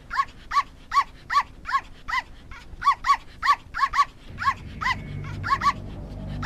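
A dog in an Indian drama film barks in a rapid, evenly spaced run of about fifteen sharp, close barks, with a low hum of background sound underneath and no speech.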